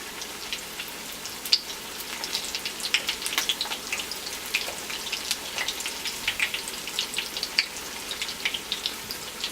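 Beef brain kababs frying in hot oil, a steady dense sizzle with continuous crackles and pops over nearly ten seconds, close and moderately loud, with no voices.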